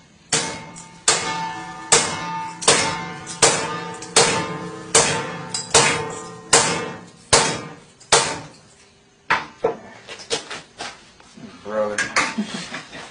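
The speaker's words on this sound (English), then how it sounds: "see if we can hammer through the steel without it breaking" An M9 bayonet is hammered through mild steel stock, with about a dozen sharp metallic strikes ringing out at a steady pace, each blow followed by a brief ring, then a quicker cluster of lighter taps toward the end.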